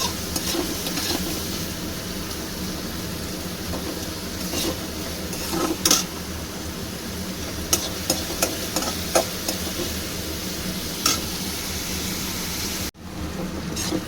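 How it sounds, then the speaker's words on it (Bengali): Onion and tomato sizzle steadily in a hot pan while a utensil stirs and scrapes, with a few sharper clinks against the pan and no speech. "টমেটোটাকেও একটু পেঁয়াজের সঙ্গে নেড়ে ছেড়ে নিচ্ছি"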